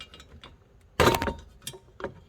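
Plastic trim panel on a Toyota Alphard/Vellfire being pulled up off its two retaining clips, a sharp, loud crack and rattle near the mic, followed by a few smaller clicks.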